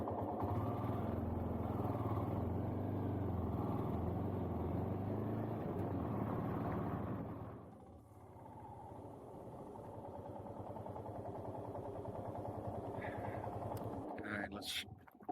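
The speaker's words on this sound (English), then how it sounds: "Hopefully the wind noise and engine noise isn't too much." Motorcycle engine drone and heavy wind rush while riding on a mountain route, strong for the first half, then dropping to a quieter, steadier hum with wind; a voice may be faintly mixed in.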